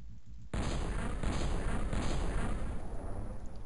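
Auto shot fired at a sectopod in a heavily modded XCom game: a sudden burst of heavy gunfire that starts abruptly and roars on as a dense, sustained rattle, moderately loud.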